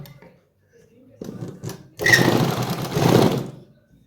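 A sewing machine runs in a short, steady whirring burst while attaching a belt-style waistband to palazzo pants. A person talks before and over it, and handling knocks come beforehand.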